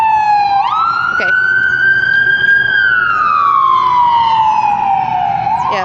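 A police officer's ambulance-type truck sounds its siren nearby, a loud wail sweeping up, holding and then sliding down again over low traffic rumble.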